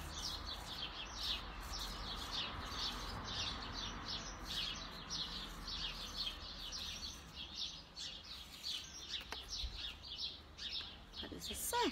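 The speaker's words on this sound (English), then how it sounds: "Feeding time for little birdies." Little birds chirping busily at feeding time, a steady run of high repeated tweets and calls from several chicks close by, continuous throughout with faint background noise.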